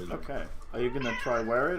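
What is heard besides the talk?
house cat meowing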